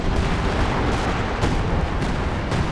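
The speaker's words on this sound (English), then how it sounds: "some heavy artillery in here, which is definitely not smart considering Lipton's going to retreat through here" Heavy artillery fire in Company of Heroes 2 booms in a dense, loud barrage of repeated blasts rolling over one another.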